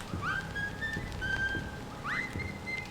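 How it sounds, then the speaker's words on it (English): Someone whistles a short tune in Bendy and the Ink Machine, in two phrases, each starting with a quick upward slide, over a quiet background. "whistling's getting on my nerves"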